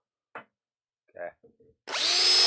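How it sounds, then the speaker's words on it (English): A power drill bores into the headstock of an inexpensive acoustic guitar while fitting replacement tuners, starting with a loud, sustained whirring burst near the end after a few faint short handling noises and quiet murmurs. "So I'm just going to drill a little bit"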